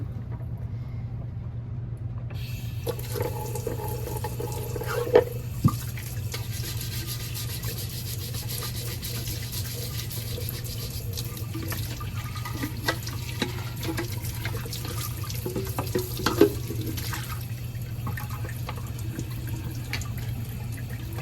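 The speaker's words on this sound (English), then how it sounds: "Our next step is to empty and clean the waters." Water runs steadily from a tap while poultry waterers in a brooder are emptied and cleaned, a constant close rush under a low hum, with a few brief knocks and scrubbing rubs on top.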